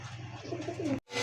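Silver single male Lahori pigeon cooing up close, a steady low throaty coo with rising warbled notes toward the end, cut off abruptly just before a brief pause.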